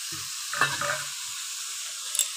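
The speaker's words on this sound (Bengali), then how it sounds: "এবার ফুলকপিগুলো আমি সব দিয়ে দিচ্ছি, গ্রেট করা ফুলকপিটা। তার সঙ্গে দিয়ে দিচ্ছি গ্রেট করা আলু।" Grated cauliflower and grated potato go into a hot pan with a soft, faint sizzle, a few quiet scrapes and knocks of a utensil early on, then mostly steady low frying hiss.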